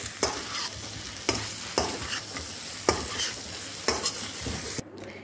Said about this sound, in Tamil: நல்லா இந்த மாதிரி ஹை ஃப்ளேமில் இப்படி கிளறி விட்டுக்கோங்க